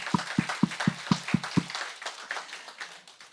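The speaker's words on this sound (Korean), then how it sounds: "우리 세 번째는 더 큰 박수를 주님 앞에 한번 드리도록 하겠습니다" A church congregation at a Sunday worship service claps in a steady, evenly spaced beat of about seven strong strokes, then the rhythm dissolves into a softer, scattered wash of applause that fades away.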